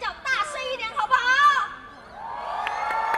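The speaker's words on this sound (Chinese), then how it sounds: "那我们再一次掌声加尖叫，大声一点，好不好" A large outdoor concert crowd at a lantern festival stage cheers and screams, with a broad, distant roar of voices swelling under and after a performer speaking over the sound system.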